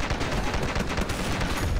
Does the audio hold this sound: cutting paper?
no